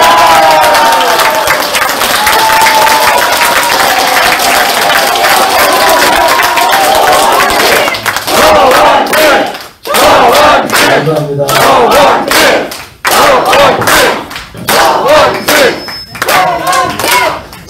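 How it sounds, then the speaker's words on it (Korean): Large crowd at a South Korean presidential election campaign rally in Incheon, cheering and shouting loudly over sustained applause, dense and close, with bursts breaking into choppier clapping and chanting toward the end. "정말 큰 박수와 함성을 보내주셨습니다"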